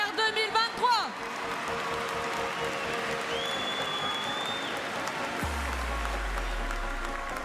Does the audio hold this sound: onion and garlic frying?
no